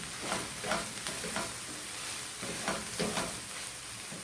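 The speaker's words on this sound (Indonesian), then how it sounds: "Kita aduk dan matikan apinya." Minced beef samosa filling is stirred in a pan, with soft repeated scraping strokes over a faint steady sizzle, close and quiet with no talk.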